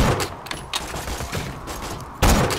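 Gunfire in the video game Borderlands 2 comes as loud, dense bursts of rapid shots that keep rolling without a break, swelling again near the end.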